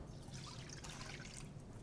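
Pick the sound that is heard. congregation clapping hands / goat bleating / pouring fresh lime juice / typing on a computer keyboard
pouring fresh lime juice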